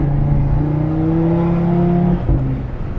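An Audi RS3 Sedan engine pulls hard from a standing start, a loud, steady droning growl that climbs in pitch. It breaks briefly near the end for a gear change before pulling again, with no talking over it.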